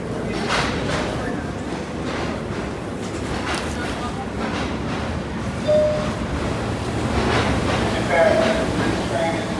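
New York subway F train bound for Stillwell Avenue running over the D line: a continuous rolling rumble of wheels on track, with metallic squeals and clanks rising at moments, heard from inside the car.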